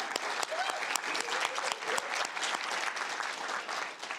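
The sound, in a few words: applause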